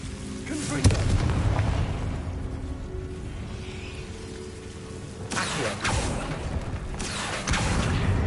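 Fiery Confringo spell blasts from the Hogwarts Legacy video game on PS5 burst out three times as sharp, roaring whooshes over a rumbling, rain-like background.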